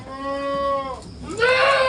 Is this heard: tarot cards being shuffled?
no